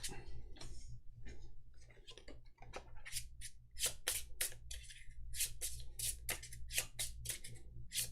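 TripLock game chips shuffled on a table, a quick run of crisp clicks and clacks in uneven bursts, close and faint over a low steady hum.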